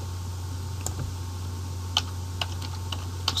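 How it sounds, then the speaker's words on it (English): Sparse keystrokes on a computer keyboard, a handful of light separate clicks spread over a few seconds, close up above a steady low hum, with no talk. "just type out Swindon"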